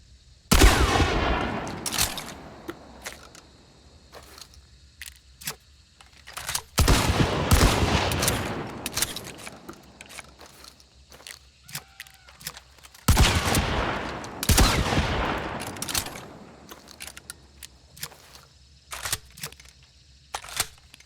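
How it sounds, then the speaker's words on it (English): Romero 77 Alamo shotgun blasts in the Hunt: Showdown game, arriving as several loud bursts of firing separated by quieter stretches of mechanical clicking and reload handling, with no talking. "The Romero Alamo is probably one of the weirdest and most complex weapons in Hunt Showdown."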